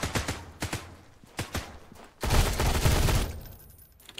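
Gunfire in the video game Sunkenland: a series of separate sharp shots in quick succession, followed by a loud, dense burst of rapid automatic fire that fades out.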